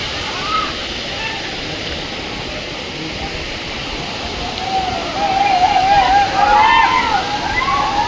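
Water rushes continuously at Hogenakkal waterfall, a broad, steady roar that grows louder partway through, with wind noise and a voice speaking over it.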